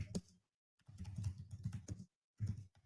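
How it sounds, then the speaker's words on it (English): Quiet computer keyboard typing in rapid irregular clusters of clicks, close but faint, with brief pauses between bursts. "hate that typing during the show"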